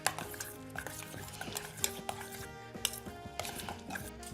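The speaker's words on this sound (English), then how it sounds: "Let's just mix that up." A spoon stirring corn and sweet potato chowder in a pot, with soft scraping and a few light clinks against the metal, quiet and close, with no talking.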